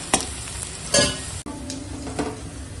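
Onion and whole-spice tempering frying in hot oil, a steady sizzle with a few louder bursts of spattering and stirring scrapes, close and alone without talk.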